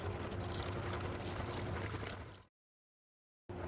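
Jasper stones tipped out of a tumbler and rinsed with water, a close, steady watery rush that stops abruptly, followed by silence and a brief return of sound.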